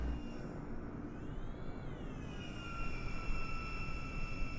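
Jet airliner's engines whining at a steady idle while it taxis back along the runway before takeoff, a continuous broadband rumble heard from inside the cabin, with a high tone that rises and then settles.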